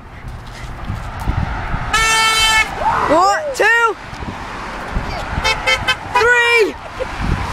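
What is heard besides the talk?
vehicle horns honking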